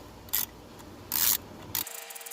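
Screws being tightened on a Chevrolet Cobalt turn signal switch: three short, close ratcheting bursts separated by quiet pauses, with no talking.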